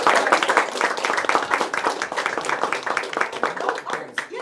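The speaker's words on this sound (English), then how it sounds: "let's have a round of applause for Annette." A round of applause for a speaker at a club meeting evaluation session, a small room of people clapping in a brisk, uneven patter that is clearly audible and close, with individual hand claps standing out.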